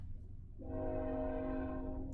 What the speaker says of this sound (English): I don't know if you guys can hear the train going by,